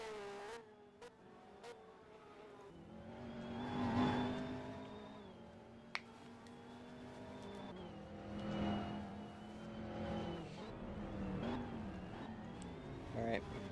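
Race cars lap Vermont International Speedway in a GTI race, engines rising and falling as they pass at moderate distance, with a few sharp clicks and a commentator talking over the track noise.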